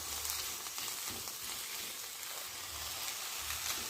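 Chopped eggplant and onion fry in a pan with a steady, close sizzle and crackle that runs the whole time, with faint stirring scrapes and no talk.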